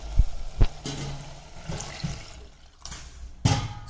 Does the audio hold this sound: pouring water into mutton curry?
yes